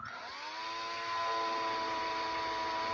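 Power drill bit boring steadily during a wheel swap, a sustained whine that rises in pitch and holds loud and close throughout, with no talking.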